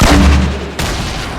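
Gunfire in the video game Fortnite, a loud, heavy blast with booming low end that rings out, followed by a second sharp shot just under a second later.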